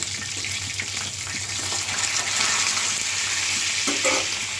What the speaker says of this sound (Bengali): এখানে রোস্টটা ভাজতেছি